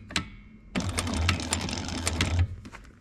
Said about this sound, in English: so that it's being sewn to the top piece. I like to sew pretty close